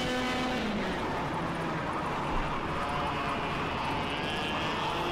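Simulated racing kart engine in KartKraft held flat out at full throttle, a loud continuous buzzing drone with rising and shifting pitch that carries steadily through the whole stretch.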